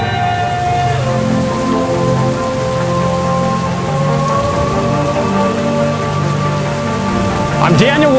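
Artificial rain pours down steadily at an outdoor rain photo shoot in Orange County, a dense continuous patter of water hitting surfaces, loud and close throughout, with low background music or hum underneath.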